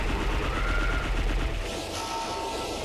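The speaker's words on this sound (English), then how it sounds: "now he fires a whole bunch of missiles at you" A boss in the Star Fox Assault video game launches a barrage of missiles, a loud, rapid burst of overlapping whooshing shots and mechanical rumble that trails off after a second or two, with no voices.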